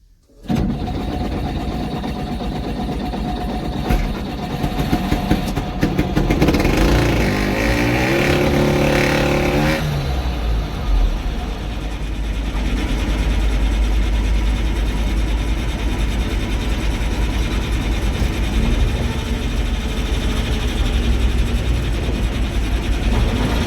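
A T-150K tractor's diesel engine cranks and catches, then settles into a steady, loud, rumbling idle that continues close by, with no talking.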